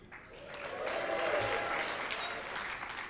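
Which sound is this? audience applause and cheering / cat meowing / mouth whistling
audience applause and cheering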